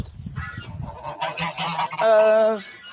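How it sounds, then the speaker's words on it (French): Toulouse geese honking loudly and close, a run of harsh calls ending in one long sustained honk. "Surtout les oies de Toulouse"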